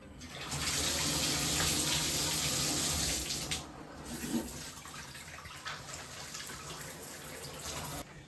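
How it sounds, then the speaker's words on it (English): Water rushes through a repaired Symmons shower valve, a loud steady stream for about three seconds that drops to a softer flow with a clunk and trickling after. "I'm going to turn the water back on so I make sure that we're good."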